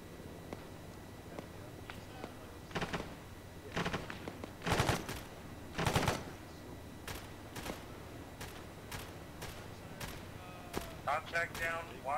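Machine gun and rifle fire in a military video game, scattered bursts and single cracks at mid distance with irregular gaps, over a quiet background with occasional voices.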